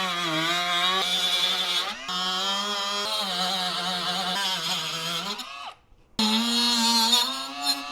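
A budget power tool cutting into a plastic car bumper: a loud, close, harmonic whine that drops in pitch as it bogs under load, cuts out briefly near the end, then winds back up, with no speech.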